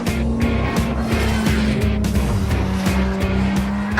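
A sports car driven hard on a race track, its engine roaring loud and close with gear changes while the tyres squeal through corners, continuous and without talk.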